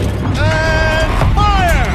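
A turret rotating in Horizon Zero Dawn produces a mechanical whirring with rising and falling whine-like tones and light creaks, loud and close, lasting a couple of seconds.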